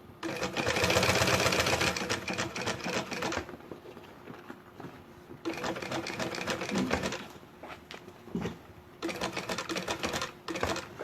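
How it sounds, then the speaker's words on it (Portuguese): A sewing machine stitches a seam on a sublimation-printed bag, in close, fast mechanical bursts separated by short pauses for repositioning, with faint handling sounds between. "Eu vou tentar bater a minha costura em cima da costura onde eu coloquei o vivo"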